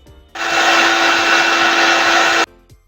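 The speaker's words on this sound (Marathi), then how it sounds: "बेसनचा चुरा लसूण आणि थोडीशी लाल तिखट आणि मीठ टाकून हे मिक्सरला जाडसर असं वाटून घ्यायचं आहे" A kitchen mixer grinder blends fried gram-flour crumbs, garlic, red chilli powder and salt into a coarse chutney, starting suddenly with a loud, steady whirring roar that runs about two seconds and cuts off abruptly, with no talk.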